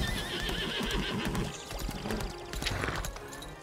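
A horse in the video game Lost Ark whinnies loudly over clip-clopping hooves, with the calls fading into the ongoing game sounds.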